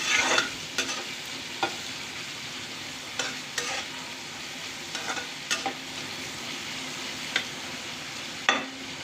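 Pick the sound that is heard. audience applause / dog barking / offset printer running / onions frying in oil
onions frying in oil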